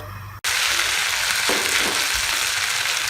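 Potatoes cooking in a covered pan over a low-to-medium flame give a steady, close, even sizzle that starts abruptly and carries on alone.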